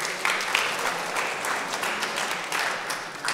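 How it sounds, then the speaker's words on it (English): Business audience in Cardiff giving a round of applause, a loud continuous crackle of many hands clapping throughout, fairly close and without speech. "Please, big round of applause for Ali."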